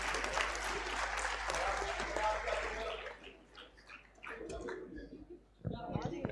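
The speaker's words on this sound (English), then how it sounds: "So please give big round of applause to the entire team which they have contributed in words, photos." An audience at a live event applauds loudly for several seconds, then the clapping thins out to scattered claps before a brief final burst.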